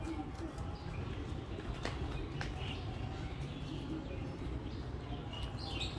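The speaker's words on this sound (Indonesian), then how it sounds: "Wow, banyak sekali burungnya." Many birds coo and chirp in the bird park at Taman Mini Indonesia Indah, scattered calls rising over a constant dense wash of crowd and outdoor noise.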